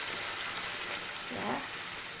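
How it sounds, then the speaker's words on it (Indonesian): Finely ground spice paste fries in a little oil, giving a dense, steady sizzle that stays close and even for the whole moment. "Ini mau goreng bumbunya dulu ya. Nah bumbunya sudah halus begini, kita goreng"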